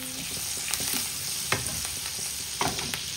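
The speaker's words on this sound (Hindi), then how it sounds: "मक्खन और देसी घी का मैंने इसमें आज तड़का लगाना है।" Steady hot-oil sizzle of desi ghee and butter tempering crackles throughout, with a few sharp spoon scrapes and stirring clicks against the pan; no voices.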